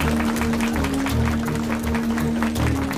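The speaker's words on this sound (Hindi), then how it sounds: "ये तालियां किस लिए बजा रहे हैं?" Audience clapping in a hall, a steady patter of many hands held at moderate loudness for a few seconds, with a low hum and faint background sound beneath it.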